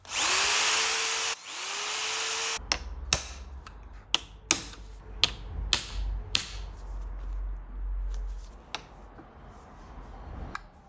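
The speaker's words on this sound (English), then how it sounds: "The old rivets can be drilled and tapped out." Power drill whirring steadily on old rivets from Rolls-Royce Corniche steering and door lock parts, then stopping, followed by a series of sharp metallic taps as the rivets are knocked out, close and fairly loud.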